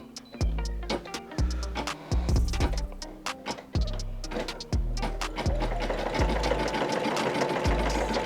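A Brother SE600 embroidery machine stitches a design onto a hat, its needle hammering in a fast, steady mechanical rhythm with periodic low thumps as the hoop shifts, loud and close with no talking.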